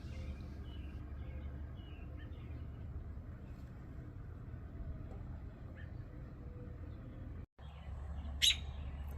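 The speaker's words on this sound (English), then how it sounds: "Mama's over there squawking," Outdoors in a yard, a mother robin squawks near a nest of chicks: sparse, faint chirps over a low background rumble, then one sharper, louder call near the end.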